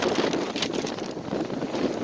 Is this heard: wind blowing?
yes